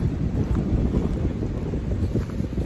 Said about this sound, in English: You may not be able to hear me well because of the wind.